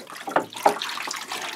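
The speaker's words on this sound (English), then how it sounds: "Rinse it off a bit." Running water from a darkroom tap rinsing a photographic print on Pan F film, a soft steady splashing and trickling with a few brighter spatters, close by and alone.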